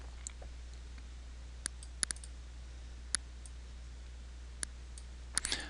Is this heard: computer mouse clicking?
yes